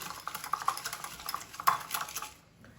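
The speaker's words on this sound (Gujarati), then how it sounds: "આ બંનેને બરાબર મિક્સ કરી લઈશું જ્યાં સુધી આપણો ગોળ પીગળે નહીં ત્યાં સુધી" A spoon clinks and scrapes in a bowl as milk powder and jaggery are mixed, giving light, irregular metallic taps and scrapes at close range that fade out at the end.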